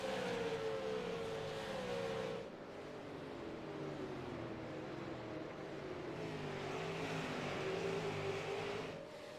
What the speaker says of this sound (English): Fastest car on the racetrack right now is actually the 3rd place car, Scotty Stevens, in the 2.